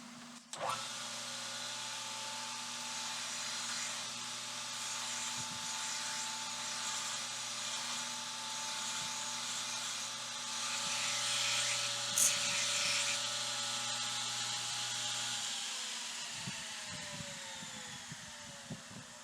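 A belt grinder with a thin belt whines steadily as a knife tang is flattened against the platen, a sustained loud grinding hum with shifting high scrape that stops near the end, leaving brief clatter.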